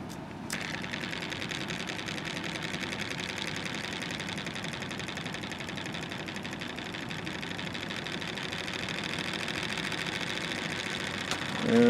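A Bedini North Pole electric motor with a symmetrical build spins freely, giving a steady, even mechanical whir and hum that holds for the whole stretch and rises slightly at the very end.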